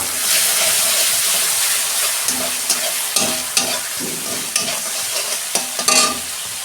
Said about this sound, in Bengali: আদা রসুন আর শুকনো লঙ্কার পেস্ট দিচ্ছি 2 চামচ।